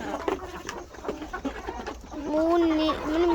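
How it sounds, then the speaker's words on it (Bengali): A white rooster nearby gives a few short clucks and then a brief, strained crowing call, with faint bird chatter and farmyard sounds around it. "এই যে এর একটি সাদা মোরগ, যেটা আমাকে আক্রমণ করে সব সময়"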